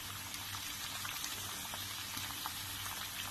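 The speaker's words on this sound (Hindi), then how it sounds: "अब ये फ्राई होना स्टार्ट हो रहा है।" Goat keema mince sizzles steadily in a karahi over a medium-low flame, a continuous crackling, bubbling fry with no talk over it.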